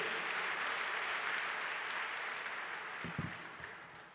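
Audience applause at a ceremony for a self-employment loan program, a dense sustained clapping from a crowd that slowly thins and fades toward the end.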